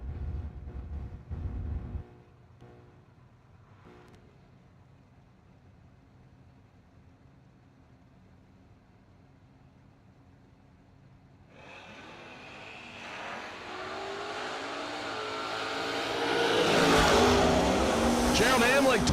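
At a drag race, a 1967 Camaro and a 1948 Ford F1 pickup launch from the line. Engines rumble low and muffled under an announcer's voice, then swell into a loud, rising roar of acceleration toward the end.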